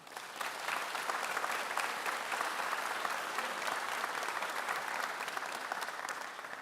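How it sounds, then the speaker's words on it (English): Steady, dense applause from a crowd of incoming medical students and their families at a UC San Diego School of Medicine white coat ceremony, rising quickly and holding at an even, loud level throughout without any speech. "Please give yourselves a round of applause."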